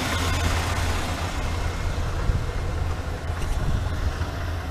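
A restored truck engine idles steadily up close, a continuous low rumble with no pauses and no voices over it.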